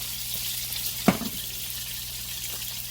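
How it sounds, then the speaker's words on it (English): Vegetables fry gently in olive oil and butter for a Sunday dinner, a soft steady hiss close by, interrupted once by a sharp clack of a utensil against the pan. "I'm going to go ahead now and put in a little bit of olive oil because I'm going to throw in my veggies here"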